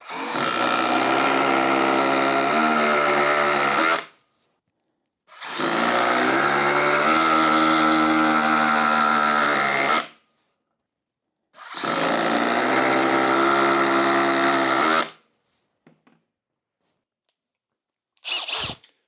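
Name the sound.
DeWALT hydraulic impact driver driving 6-inch lag fasteners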